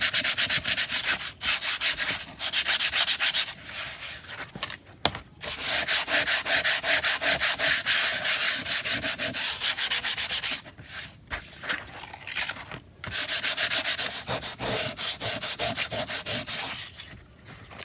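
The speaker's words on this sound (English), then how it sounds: "if it's a shiny cover, I would suggest you sand it down a bit." Sandpaper rubbing steadily over a shiny book cover, a close, loud, continuous scratchy rasp in long strokes, broken by a few brief pauses.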